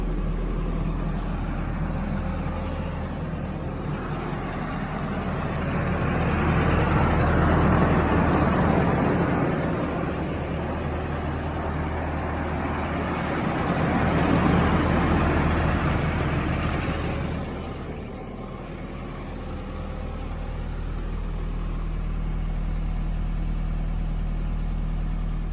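A Nissan 240SX runs on its stock exhaust, a steady low idle hum with broad rumble that swells twice and then settles back to a quieter, even drone.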